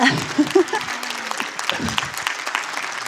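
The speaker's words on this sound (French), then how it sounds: "Bonne main d'applaudissement." Applause from an audience welcoming a special guest at an interview event, a few scattered claps rising into a moderate round with some voices mixed in.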